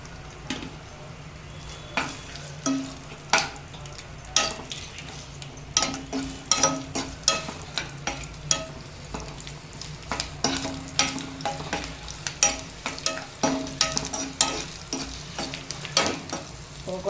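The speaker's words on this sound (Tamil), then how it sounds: "இஞ்சி பூண்டு போட்டு கொஞ்சம் வதக்க போகிறேன்." Ginger and garlic sautéed in a pan for a dhaba-style green pea masala, a soft sizzle under frequent scraping and tapping strokes of a spoon against the pan, stirred in an irregular rhythm.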